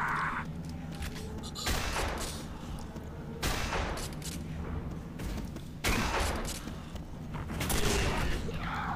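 Railgun firing in the video game Quake 4, with three or four sharp, heavy blasts at irregular intervals over a constant rumbling background of machinery and ambient noise.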